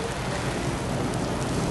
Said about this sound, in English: 1 inch of rain in 5 minutes.